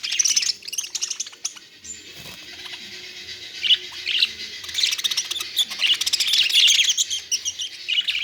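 Many budgerigars chirp and chatter continuously around breeding pots, a busy, high-pitched flock warbling close by with no talking.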